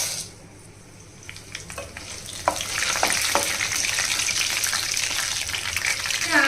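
Chana dal, urad dal and torn dried red chillies drop into hot oil for a curry leaf pickle, with a faint start giving way to a loud, steady sizzle and a few sharp crackles, no talking.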